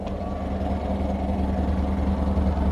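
A 1979 Mazda 626 coupe engine idles steadily with a low, even rumble and hum throughout, no other sounds standing out.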